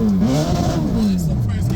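A Hayabusa-engined Toyota Corolla revs hard in first gear at a drag race, a loud, steady engine drone that sweeps down and back up in pitch across the whole stretch, close by, with voices blended into the noise.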